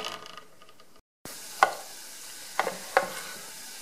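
Banana fritter batter frying in hot oil in a deep pan, a steady low sizzle broken by a brief silence, then a few sharp clinks of a spoon against the pan.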